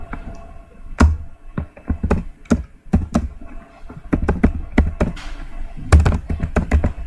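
Keys on a computer keyboard clack as a registration number is typed into an online ITR 7 filing form, a run of close, sharp taps in uneven bursts, alone without talk.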